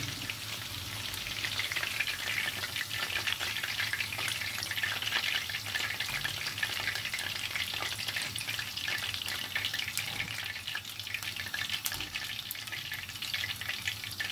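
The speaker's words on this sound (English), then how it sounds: "This chicken has been fried in this deep oil." A steady, loud sizzle of chicken deep frying in hot oil for chilli chicken fills the whole stretch, with occasional faint clinks and no talking.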